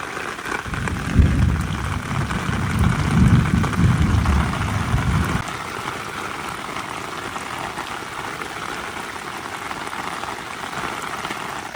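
Steady tropical rain pours down on Ko Chang island, Thailand, heavier and louder for the first few seconds before easing into a constant, even hiss of falling drops.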